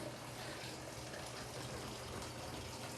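Water gushes steadily into a washing machine filling for a load of laundry, a faint continuous rushing heard at a distance.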